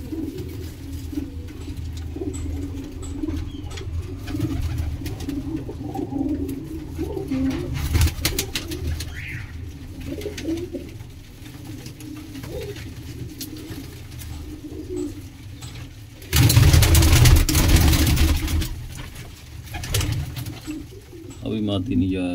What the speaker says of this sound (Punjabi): ਬਹੁਤ ਕਮਾਲ ਦਾ ਕਬੂਤਰ।